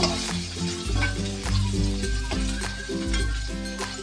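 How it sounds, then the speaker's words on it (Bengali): Eggplant (brinjal) slices fry in oil already used for frying fish, a continuous bright sizzle running under louder background music with a steady beat. "লাল করে ভেজে নিচ্ছি বেগুনগুলো"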